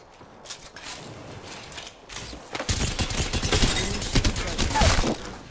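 Rapid gunfire from a battle in the video game Apex Legends, a dense burst of shots building from moderate to loud over several seconds.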